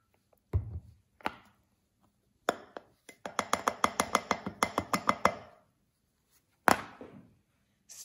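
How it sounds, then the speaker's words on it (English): A spoon stirs honey tea in a glass, giving a few scattered clinks and then a quick run of light, rhythmic taps against the glass, with one last sharp clink after a pause. "Stir that thing on up."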